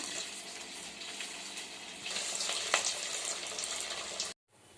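Sweet corn vadas (garelu) frying in hot oil, a steady broadband sizzle and crackle that swells louder midway with a brief sharp pop, then cuts off abruptly near the end; no voices.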